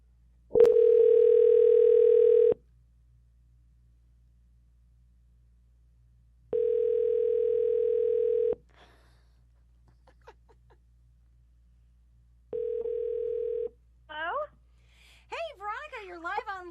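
A landline telephone call rings through while waiting for pickup: three long, loud, steady ringback tones separated by silent gaps, followed by voices answering near the end.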